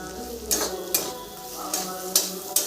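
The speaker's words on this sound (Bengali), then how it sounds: "এটাও 1 মিনিটের জন্য কষিয়ে নেব" Spices sautéing in hot oil for a Bengali chana dal, a soft steady sizzle broken by several scraping stirs of a spoon against the pan, close and fairly quiet.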